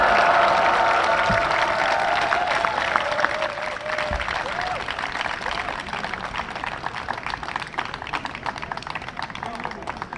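Applause and cheering from a crowd at an outdoor rally of Seoul National University students and alumni, loud and sustained for about ten seconds with bursts of noise and a voice over a loudspeaker early on.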